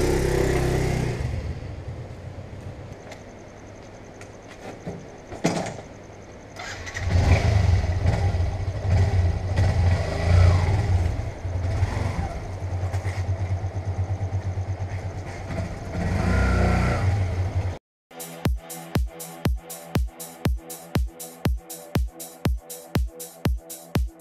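A Yamaha FZ version 1 motorcycle engine runs and revs close by, rising and falling over a steady rumble. After a short cut comes a rapid series of regular sharp pulses.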